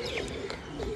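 Pigeons cooing in the misty early morning while perched on rooftops, soft repeated low coos blending into a steady ambient background, moderately close and faint.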